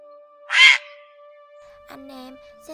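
A grey heron flock call, a harsh croaking squawk rising loudly once, then a second rougher call a moment later, over a steady faint electronic hum.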